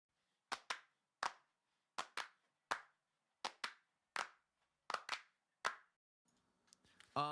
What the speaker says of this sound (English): So here are the claps.